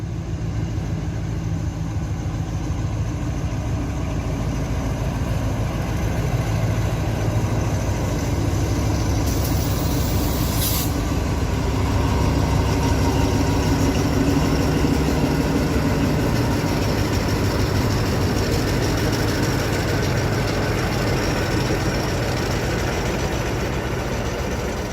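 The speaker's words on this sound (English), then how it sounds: "and here's a train, another freight train." Freight train at a railway near a tunnel in rural Thailand, a loud, continuous low rumble and engine drone held steady throughout with no break, as the train passes and then sits idling.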